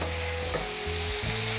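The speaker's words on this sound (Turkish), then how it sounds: "Şimdi böyle hızlıca karıştırıyoruz." Tomatoes and black pepper stirred briskly in a hot pan give a continuous, loud, close sizzle with a faint steady hum beneath it.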